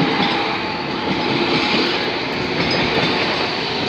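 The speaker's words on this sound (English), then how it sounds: "Oh, here's his train already." British Rail Class 395 electric train passing the level crossing at Sandwich, Kent, a loud continuous rumble and wheel noise close by throughout, with no voices.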